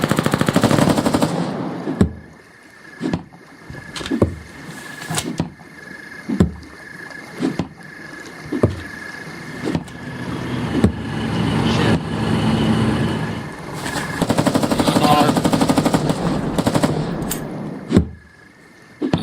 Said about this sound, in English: Machine gun, from what I can tell.